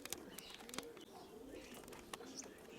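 Young, not yet flight-trained pigeons coo softly in a loft, low warbling calls recurring under faint chirps and occasional clicks and knocks, fairly quiet and close.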